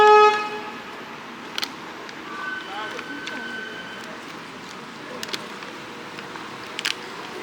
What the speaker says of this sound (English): I do have to honk my horn right here